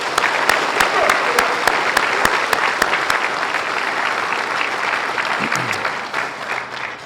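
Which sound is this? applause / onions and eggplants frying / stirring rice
applause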